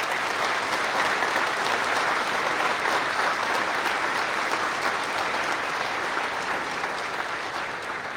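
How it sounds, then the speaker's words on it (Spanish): Sustained applause from a large audience at a state civil protection council event honoring the armed forces, a dense even wash of clapping held steadily throughout and fading slightly at the end. "quiero que todos les demos un fuerte aplauso a nuestras heroicas Fuerzas Armadas"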